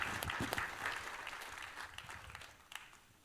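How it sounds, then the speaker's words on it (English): Congregation clapping in a church at the close of a Mass, a dense patter of many hands at moderate level that thins slightly toward the end, with a faint murmur of voices underneath. "And one more time, please give them a big applause."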